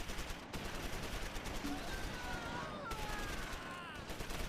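MG teams fire machine guns in the Close Combat wargame during a German assault near Monthermé, dense crackling bursts of gunfire heard rather faintly and continuously, with whistling tones and a voice talking over it.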